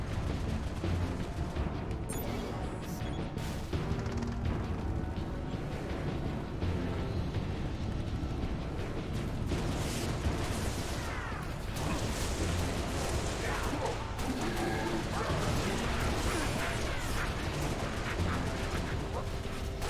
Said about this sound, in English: put the turrets to work